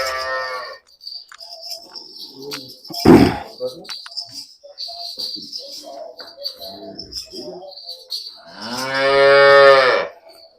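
A cow moos loudly and up close during hand milking on a village farm in Punjab, with one long drawn-out call near the end and a shorter one at the start, while people talk quietly between the calls and birds chirp faintly.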